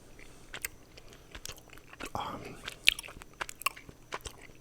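Gummy bears munched close to the mic in a quiet room, with a run of soft, sticky bites and chews, some sharper squishy crunches mixed in, and no talking.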